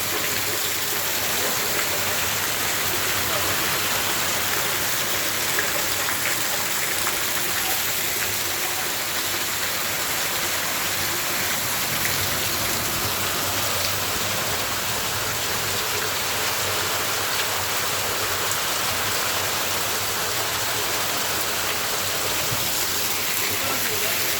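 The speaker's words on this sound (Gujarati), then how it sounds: "ઘનઘોર વાદળ અને ઘટાટોપ વરસાદ" Steady, dense hiss of heavy rain pouring down during a storm with gusting wind and hail, continuous and loud throughout, with no distinct individual drops standing out.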